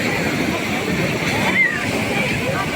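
Sea waves at Puri beach make a steady, rushing wash of surf nearby, heard under a voice talking throughout.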